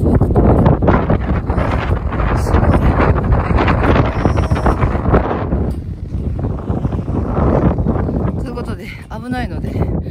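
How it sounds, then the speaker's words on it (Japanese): Strong wind gusts in a snowstorm batter the microphone with loud, rough buffeting. The roar eases briefly near the end, and a person speaks intermittently over it. "風が強いってことは吹雪いてきた"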